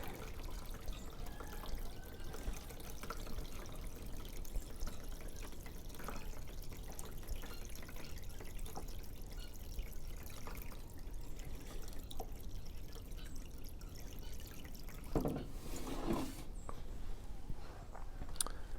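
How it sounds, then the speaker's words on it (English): Water trickling and dripping as a watering can fills a seed flat of lettuce seedlings, a steady soft low wash throughout with a brief louder splash near the end. "putting the watering can in, this will seep from the bottom"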